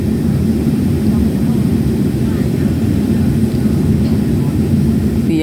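Airplane rolling on the runway after landing in Paris, a loud, steady low engine roar and cabin rumble heard from inside, constant throughout with no clear breaks.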